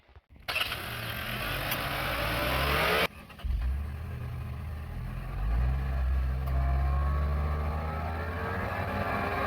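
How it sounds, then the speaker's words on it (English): A 2024 Nissan Magnite with a CVT and turbo engine pulls away from rest, its engine a steady, moderately loud drone heard from inside the car with a brief dip and then a smooth rise. "let's start driving this Nissan Magnite, updated Magnite, of course, 2024"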